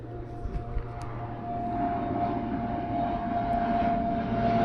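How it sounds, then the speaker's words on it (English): A low-flying airplane passes overhead, its engine drone swelling steadily louder and fuller over a few seconds in open outdoor air, with no talking. "Another airplane."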